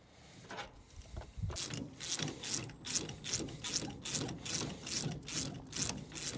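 Steady rapid clicking of a ratchet driving an Allen key bit to undo a bolt on a race car, a regular run of crisp close ticks repeating for several seconds.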